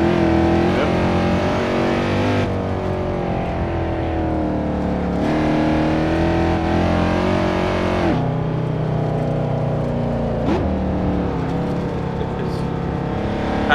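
Loud, continuous engine note of a Mercedes C63 AMG W204 in the racing game Assetto Corsa, revving up and down through gear changes and shifting pitch, with no talk over it.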